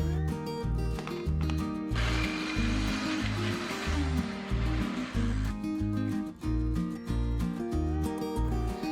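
A blender grinds oats into oat flour, a steady whirring roar that builds in the middle of the stretch over a rhythmic music bed, close and fairly loud.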